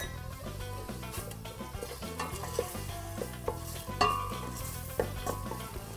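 Tomato paste and pepper fry in a pan while a utensil stirs steadily, a soft continuous sizzle under repeated scraping taps, close and moderately quiet.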